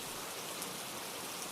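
Heavy rain pours down at night in a village, making a steady, even hiss of falling water with no talk, soft and unbroken throughout.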